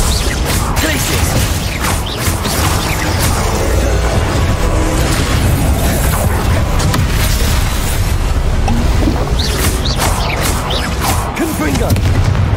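Dense, continuous booming spell impacts and crashes during a hard-mode duel in Hogwarts Legacy, loud and layered throughout with short bursts, with a voice talking intermittently underneath.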